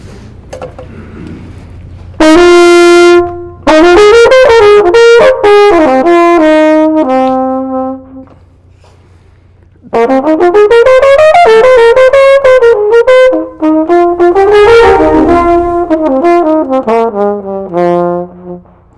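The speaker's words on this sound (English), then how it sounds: "I realized that the flugelhorn is going to sound incredible here" A flugelhorn plays a warm, lyrical solo melody with sustained notes, alone and close, resonating in a large hall with a pause midway.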